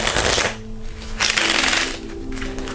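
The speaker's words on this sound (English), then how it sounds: "the sound of these playing cards hitting the face of the nine of clubs" Playing cards riffle in a false shuffle, a dense rapid flutter of card edges snapping against the face of the nine of clubs, close and loud in steady bursts with no speech.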